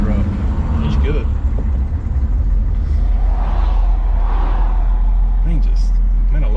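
A 1994 K2500 Silverado with a 6.5 turbo diesel idles and runs nearby, a deep steady rumble with a low clattering texture and some rising whoosh, loud and continuous throughout.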